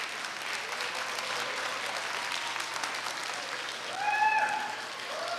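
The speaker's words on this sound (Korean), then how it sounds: "여러분 다시 한번 모든 출연자들을 위해서 힘찬 박수 부탁드리겠습니다." Sustained audience applause for all the choir performers at a Korea University alumni joint choir festival, even and moderately loud, with a brief whistle-like tone near the end.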